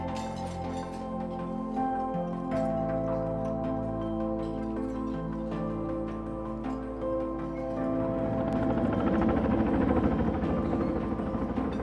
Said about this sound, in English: Today we were using a helicopter to deliver large wood.